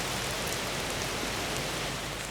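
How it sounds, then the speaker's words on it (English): Hail pelting down in a sudden storm during a day out pigeon decoying, a dense, steady hiss of impacts drumming on surfaces all around, unbroken and fairly soft. "I actually got caught out in the middle of a hailstorm here."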